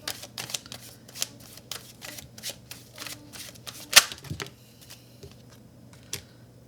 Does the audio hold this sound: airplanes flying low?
no